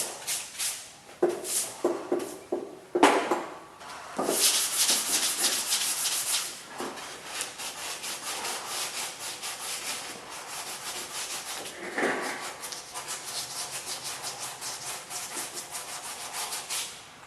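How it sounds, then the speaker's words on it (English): Hand sanding with 320 grit sandpaper to remove 220-grit scratches, heard as steady back-and-forth rubbing strokes close by, with louder bursts early on and a continuous scratchy rhythm and no talking. "All I'm trying to do right now is take the 220 scratches out. This is 320."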